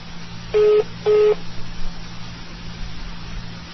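Two short, loud electronic beeps in quick succession over a telephone line while on hold, followed by a low hum and faint line noise.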